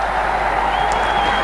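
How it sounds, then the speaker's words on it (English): Cricket test match crowd between Pakistan and the West Indies in Lahore, cheering and applauding a fielder's dive, a steady distant wash of crowd noise. "Gets a cheer from the crowd"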